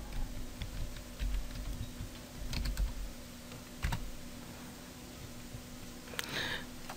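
Typing on a computer keyboard comes as quiet, irregular clusters of key clicks, up close and alone without speech.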